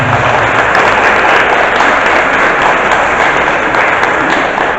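Applause from a church seminar audience, a dense steady wash of many hands clapping at once, loud and sustained without any talk over it.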